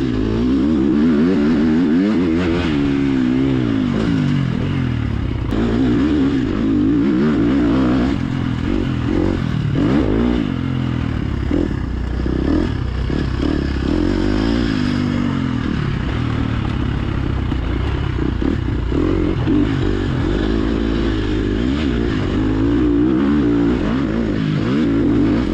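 A KTM dirt bike on a small motocross track revs and roars continuously, its engine loud and close throughout with rising and falling throttle and some clattering.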